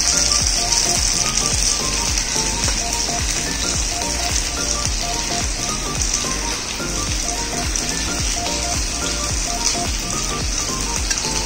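Fish, a kendai (carp) fry, sizzling in hot oil in a pan: a loud, constant crackle and hiss with scattered pops throughout, close up and with no talking.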